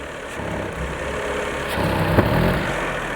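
A car engine with a nearly dead battery running at a low, uneven idle, briefly rising in revs and then settling, with a steady rumble close by.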